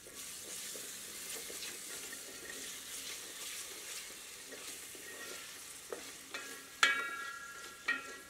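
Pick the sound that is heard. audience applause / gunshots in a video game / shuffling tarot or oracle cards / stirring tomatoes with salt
stirring tomatoes with salt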